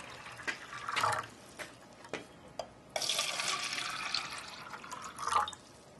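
Water poured into several cups to an even level, heard as a brief trickle, scattered drips and a longer splashing fill midway, fairly close and moderate in loudness, with no talking.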